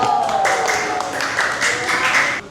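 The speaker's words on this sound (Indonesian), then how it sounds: "Tepuk tangan untuk semuanya." Applause from an audience at a school teacher-training event in Indonesia, steady clapping sustained for a couple of seconds with a clear end.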